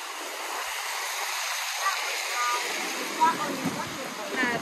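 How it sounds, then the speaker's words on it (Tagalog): Strong wind rushes and roars across the microphone in a steady, broad blustery noise, with brief gusts and faint scraps of activity beneath it. "Hangin."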